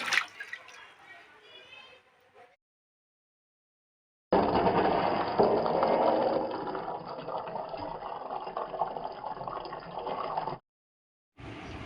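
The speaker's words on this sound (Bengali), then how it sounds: "আমি আগে বিটগুলো ভালো করে ধুয়ে নেব" Beets being washed in water to rinse off soil while preparing a Bengali beet and potato fry; a steady stretch of running, splashing water in the middle, with someone speaking before it.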